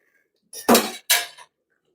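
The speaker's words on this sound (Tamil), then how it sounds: "அடியில் இது போல் தோசை கல்லை வச்சுட்டு அதுக்கு மேலே நம்ம இந்த பாத்திரத்தை ஏற்றிக்கலாம்" A metal biryani pot is set down on a dosa griddle: two quick, close metallic clanks in quiet surroundings.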